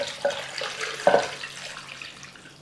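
Liquid is poured into a pan while cooking beef sandwiches at home, giving a soft, splashy trickle with a couple of brief louder splashes, fairly close and without talk.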